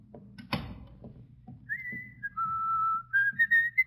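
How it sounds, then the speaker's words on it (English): A person whistles loudly in a hallway: a run of clear, sustained tones that slide between pitches, ending in short rising phrases. A sharp knock or bump and faint room sounds come just before, with no talking. "Do you think you should whistle so loudly"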